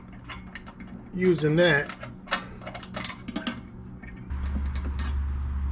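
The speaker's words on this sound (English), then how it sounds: "I'll take a magnetic screwdriver and I'll get the parts in there" A magnetic screwdriver starts screws by hand during a small swamp-runner kit build, giving short ratcheting clicks and metallic ticks up close, with brief speech over the work and a steady low hum joining near the end.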